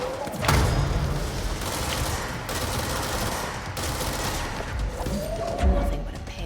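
Rocket weapon fire in the video game Control, dense booming blasts and rumbling explosions layered over continuous loud combat noise, with a heavier thump near the start and another near the end.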